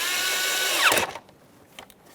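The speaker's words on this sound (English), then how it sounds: "Tighten your 8mm headed mounting clamp." A power driver tightening an 8mm-headed mounting clamp on the air intake of a 2011-2021 Jeep Grand Cherokee 3.6L V6, a steady whirring buzz that winds down after about a second, followed by a faint brief tap.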